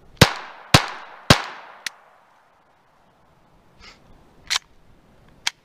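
A Glock 44 pistol fires weak .22 rounds: three sharp, loud reports in quick succession with decaying ring, a small click, then after a pause a few more scattered cracks and clicks.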